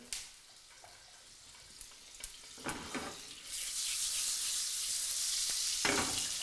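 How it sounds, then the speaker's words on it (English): Oil and butter in a frying pan start to crackle and sizzle, growing into a steady, fairly loud hiss after a few faint clicks and clatters. "Now I'm going to heat the oil and butter in this frying pan."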